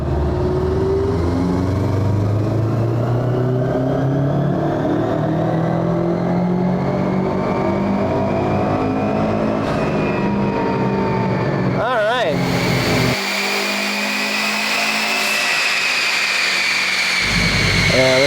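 A Subaru Impreza GC STI engine revs hard on a dyno, rising in a long loud sweep under load before the pitch jumps and then falls away as it lets off, close and sustained.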